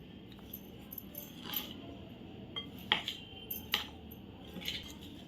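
A spoon mixes soaked aliv seeds with grated coconut and jaggery in a bowl, giving faint, scattered metallic clinks and light scrapes against a quiet background.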